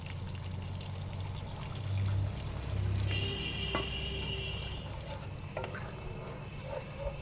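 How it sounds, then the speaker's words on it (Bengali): Water is poured into a pan of fried spice masala, giving a soft, steady pour and trickle over low sizzling. It is faint and close, with no voices. "এর মধ্যে জল দিয়ে দেব।"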